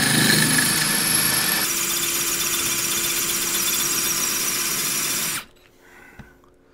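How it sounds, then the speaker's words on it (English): A power drill bores through the screws of an S&S Super E carburetor, whining loudly and steadily for over five seconds before stopping abruptly, leaving a faint clink afterward. "So at the point this drill goes all the way through, no more threads, no more screws."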